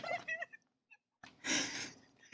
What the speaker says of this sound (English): Here's my Parker snoring video.